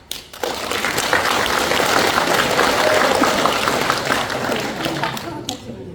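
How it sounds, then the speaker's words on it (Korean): An audience at a formal ceremony applauds, sustained dense clapping that starts abruptly, holds steady and loud for several seconds, then thins out toward the end. "박수 부탁드립니다."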